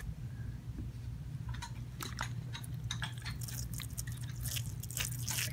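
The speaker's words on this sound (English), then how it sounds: "Oh, let me water it first." Water trickles and drips onto potting soil over a freshly planted watermelon seed, a run of small close wet splashes and patters over a low steady hum, with no talking.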